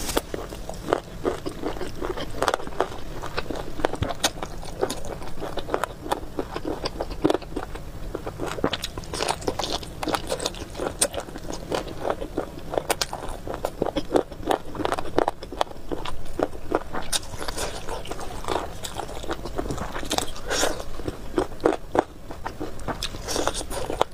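Close, loud biting and crunching while eating spicy Chinese chicken feet, sharp crisp snaps repeating in an irregular rhythm with chewing between bites, no talk.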